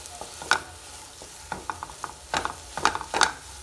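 Potato and vegetable filling for an aloo bread sandwich frying in a pan, with a light sizzle under repeated scraping and stirring strokes of a spoon, in short irregular bursts close by.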